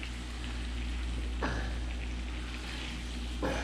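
Scup (porgy) fish frying in a pan, a constant close sizzle and crackle with a low hum underneath and two brief louder spits.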